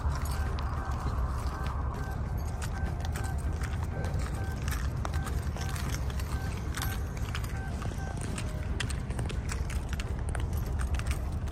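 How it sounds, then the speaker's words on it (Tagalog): Horse hooves clip-clop in a steady rhythm on a street in Melbourne, mixed into dense traffic and city noise, fairly distant and partly masked, with some voices around. "Isa may kabayo pa sa taas ah."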